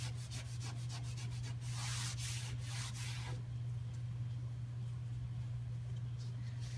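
White maintenance oil rubbed by hand across maple planks for a headboard: quick, rhythmic rubbing strokes for about three seconds, then quieter, over a steady low hum throughout.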